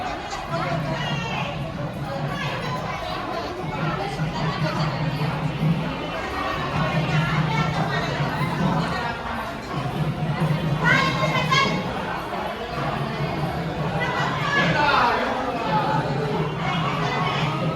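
Crowd chatter from pilgrims packed at Tirupati Balaji temple, a dense steady murmur of many voices with children's shouts rising now and then, close and continuous throughout.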